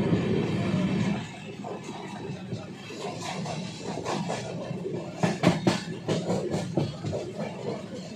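Inside the Prayagraj Express 12417 running at around 130 km/h near Kanpur, a steady low rumble carries rhythmic clattering of wheels over rail joints, growing busier toward the end.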